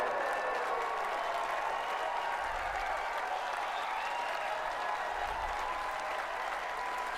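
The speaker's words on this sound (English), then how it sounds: "Look at all the nervous people in the crowd clapping" A large Oscars ceremony crowd applauds in a dense, continuous wash of clapping, steady and fairly distant throughout with no pauses, a faint voice briefly audible beneath.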